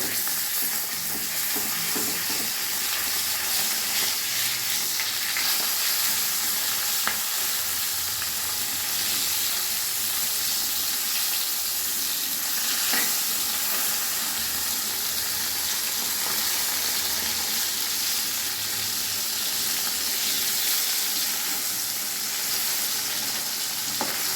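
Bata fish frying in hot oil for a spicy jhal curry, a steady, close crackling sizzle with bubbling hiss running unbroken throughout, no talking.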